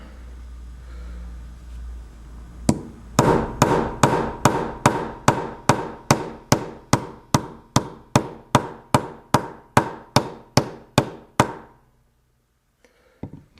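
Steady hammer blows, about twenty in a row, ring out loud and evenly spaced against a low background hum, then stop abruptly.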